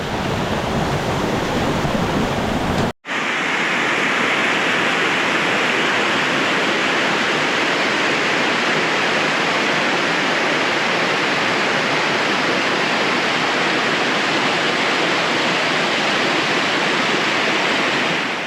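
Jawathu Beeman Falls, a waterfall in the Jawathu Hills of Tamil Nadu, roars as a loud, steady, dense rush of falling water that continues unbroken after a brief cut near the start, with no voices.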